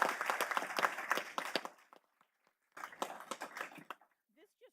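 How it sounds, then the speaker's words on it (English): Audience applause at a school board meeting, a burst of clapping that dies down briefly, then picks up again before fading out. "Let's give a round of applause to Grigori."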